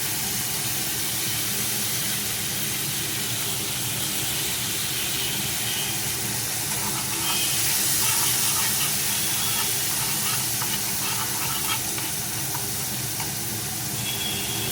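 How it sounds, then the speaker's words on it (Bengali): Spice paste of cumin, coriander and turmeric powders frying in a pan with a little water, a continuous even hiss and sizzle, close and fairly loud, with no talking. "মশলাটা ভালো করে কষে নিই।"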